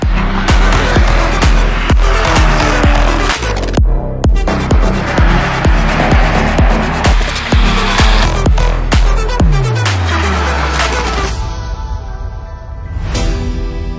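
Race cars at the start of the Mugello 11 Hours endurance race, loud engines roaring past one after another in rapid succession, then a fading car and a lone engine rising again near the end.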